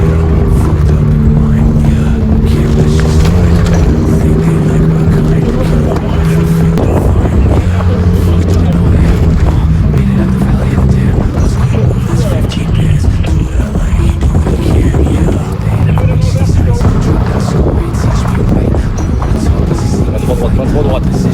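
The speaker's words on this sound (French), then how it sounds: "On vient de déboîter le pot. Du coup ça traîne." A Peugeot 205 drives along rough mountain tracks in the Alps with its exhaust knocked loose and dragging, giving a loud, steady engine drone with scraping and rattling, close to the microphone, with wind buffeting and people talking over it.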